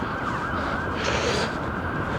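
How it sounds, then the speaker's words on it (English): A St John's ambulance siren wails as the vehicle drives past on a town street, with a steady wash of traffic noise underneath and a brief rise in the high tones near the middle. "There's an ambulance coming through there, saving lives. It's St John's ambulance"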